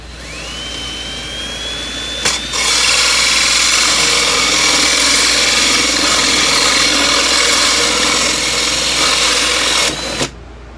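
A power tool cuts a hole in a wooden cigar box for a cigar box guitar, a loud, high whining motor that spins up, runs steadily with a grinding bite for several seconds, then winds down.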